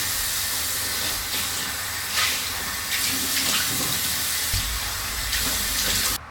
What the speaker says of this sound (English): While I rinse this off